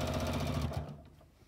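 A sewing machine runs steadily while stitching the side seam of a fabric bag, a loud, even mechanical whir with rapid stitch rhythm for about a second before slowing and fading out.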